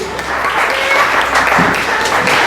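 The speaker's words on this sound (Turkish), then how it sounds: "Evet, Uğur'a alkış alıyoruz" Children and adults at a fourth-birthday party game clap for a child, a lively, loud burst of steady applause lasting the whole moment, with faint voices mixed in.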